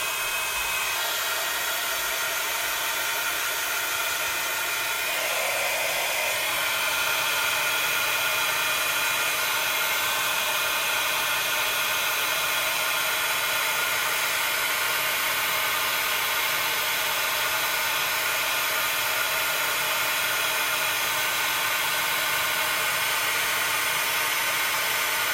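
A heat embossing tool blows hot air onto a card, a constant loud hiss and whir with a steady electric hum, running alone without pause.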